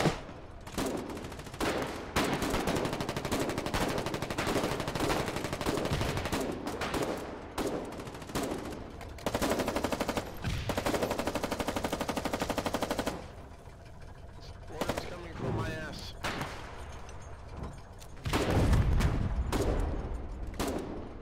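Machine gun fire in the war game Foxhole during frontline fighting: long rattling bursts of rapid shots, loud and close, broken by short pauses and a few heavier thuds, with occasional talk.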